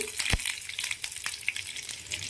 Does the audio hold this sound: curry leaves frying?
yes